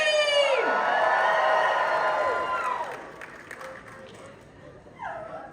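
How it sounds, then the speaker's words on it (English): A convention audience at a Dark Harbor announcement for the Queen Mary screams and whoops loudly for about three seconds, then fades to murmuring, with a presenter's voice at the end. "go ahead and raise a limb and let me hear you scream!"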